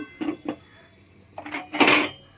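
A metal Prestige clip-on pressure cooker lid is handled in a kitchen. It gives a few short clanks and clinks, two light taps followed by a louder metallic rattle near the end, close and with no voice.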